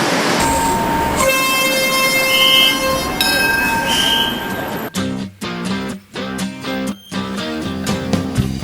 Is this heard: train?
yes